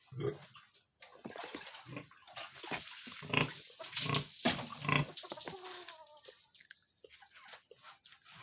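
A pregnant sow is bathed before deworming, with close splashing and pattering water mixed with her grunts and snorts in irregular bursts.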